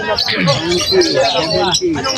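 Zebra finches chirp and tweet continuously in a busy aviary at a bird vendor's, their bright calls layered over one another with people talking in the background.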